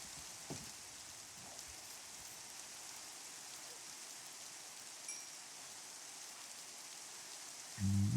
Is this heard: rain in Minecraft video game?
yes